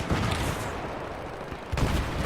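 Tank cannon fire in the Battlefield video game, booming blasts at the start and again near the end, loud and close over dense rumbling battle noise.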